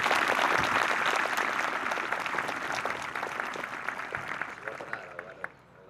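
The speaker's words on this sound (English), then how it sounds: "Let's give them a round of applause." Loud audience applause at a middle school promotion ceremony, dense clapping from a large crowd that holds steady, then thins out and fades at the end.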